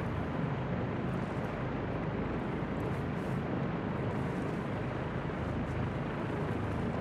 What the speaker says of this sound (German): Escucha, hört ihr das? Da kommt ein Heli.